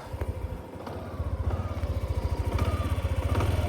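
A Yamaha Xmax Tech Max scooter, 525 cc, idles up close, a steady low pulsing thrum with a fast, even beat that rises slightly in loudness.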